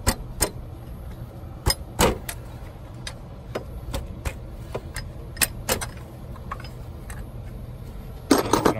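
Adjustable wrench clicking and clanking against a 2003 Suburban's alternator in a parking lot, with sharp metallic taps at irregular intervals over a steady low background hum and a small cluster of clinks at the end.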